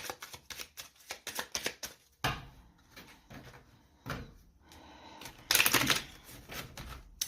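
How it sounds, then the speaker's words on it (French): Tarot cards laid out one by one on a table for a nine-card spread: a close series of crisp taps, slaps and slides in irregular bursts, with a louder flurry near the end and no talking. "on va poser les 9 cartes"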